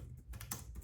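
A computer keyboard is typed on in a few quick, faint clicks spaced unevenly across less than a second, close by and without talk.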